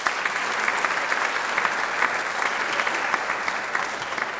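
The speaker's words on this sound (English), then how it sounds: "Give them a round of applause." A steady round of applause at a small business recognition awards ceremony honors state representatives, the crowd's clapping dense and even throughout with no pauses or voices standing out.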